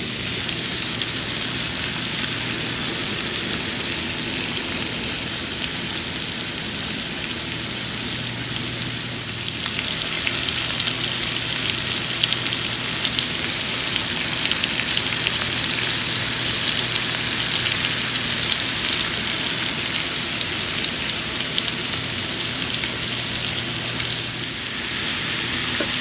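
Onions, peppers and mushrooms sizzle steadily in a pan for Cajun chicken pasta, a dense rain-like hiss that continues evenly for a long stretch, slightly louder after the vegetables settle, with no voices.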